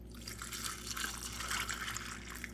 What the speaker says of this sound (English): So now we're going to just pour this in there.